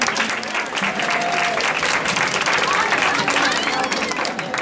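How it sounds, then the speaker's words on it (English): An audience at a school parent breakfast gives a round of applause for math and physics students, sustained dense clapping at an even level for the whole stretch, with some voices and cheering mixed in. "let's give the math and physics folks one more round of applause"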